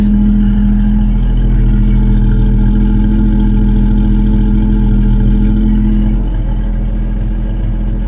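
An old Rover P4 car engine idles loudly and close up, a deep, steady exhaust rumble that eases slightly toward the end.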